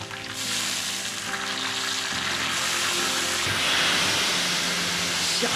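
Soy sauce is poured onto fish frying in a hot pan. A dense, steady hiss and sizzle runs throughout, swelling slightly as the liquid hits the oil, with a low hum underneath and no talking.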